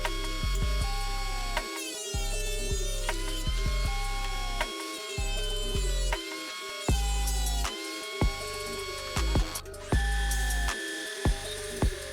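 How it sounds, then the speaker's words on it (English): A loud woodworking jointer hums steadily while squaring up table legs, its pitch dropping and returning as cuts start and stop in a repeating cycle. "So I'm using my joiner to get these nice and squared up"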